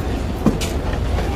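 Provincial train in Taiwan heard from inside the carriage: a steady low rumble of the moving railcar with a brief louder knock and faint clatter, continuous and close, with no talk.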